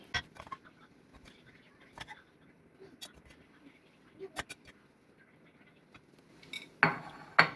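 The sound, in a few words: transferring egg rice into a serving bowl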